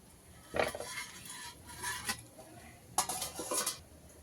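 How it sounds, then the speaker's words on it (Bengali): A lid is set on a frying pan of vegetarian bakful flower fritters and then loosened. It gives a few distinct clattering metal knocks and rattles at close range over a faint, quiet sizzle. "এবার আবার ঢাকা দিয়ে দেবো এবার ঢাকাটা আলগা করে দেখবো কতটা হয়েছে"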